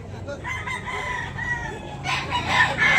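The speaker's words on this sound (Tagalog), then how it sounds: "Maraming manok dito" Chickens and roosters at a poultry market in Tabunok: a rooster crows loudly nearby, with clucking and other fowl calls layered over a busy background.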